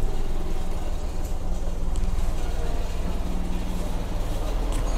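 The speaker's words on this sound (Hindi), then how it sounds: "ये देखें गाड़ी स्टार्ट हो चुकी है," The restored 1989 Suzuki Mehran runs after starting, a steady close-up engine drone with a low hum and no change in pace, with faint voices in the background.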